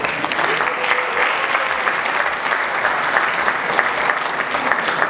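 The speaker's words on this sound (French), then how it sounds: "je voudrais que vous vous applaudissez d'abord" Sustained applause from an audience at a French-language awards ceremony honoring prize winners, dense and steady clapping filling the room without pause.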